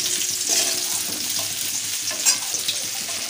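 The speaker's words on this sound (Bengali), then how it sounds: "এখন বেশ লাল করে একটু কচুটাকে ভেজে নেবো।" Partly boiled taro (maan kochu) fries in a pan until reddish, giving a steady close sizzle with soft scraping stir strokes and an occasional louder clack, no voices.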